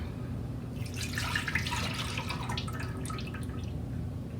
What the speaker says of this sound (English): So, in goes the milk.